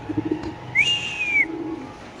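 A racing pigeon at a crowded pigeon sale gives a single drawn-out, whistle-like call, clear and close. Faint shuffling and murmur from the market sit underneath.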